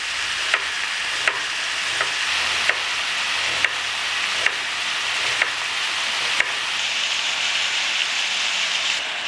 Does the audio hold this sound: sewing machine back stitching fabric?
no